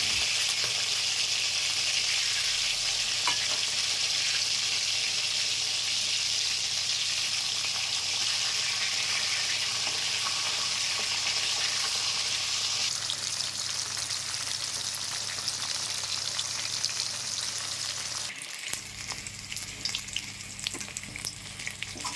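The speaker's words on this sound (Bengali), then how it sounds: "মাছ এক পিঠ ভাজা হয়ে গেছে, এবার উল্টিয়ে দেবো।" Stingray pieces turned over in a wok of hot oil sizzle with a loud, steady crackle that runs on evenly, then thins and softens near the end.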